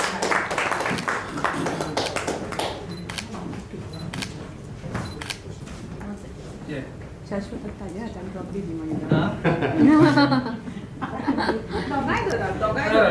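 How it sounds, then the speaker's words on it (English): Audience applause at a Constitution of India quiz event in Goa, with a crowd clapping in a dense patter of claps under a speaking voice and some chatter. "Round of applause"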